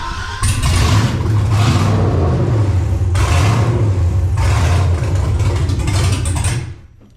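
LS-swapped 1988-99 GMT400 truck with open exhaust manifolds and a stage 2 Elgin cam, revving loudly in repeated blips over a rough, lopey idle, close by, before cutting off at the end.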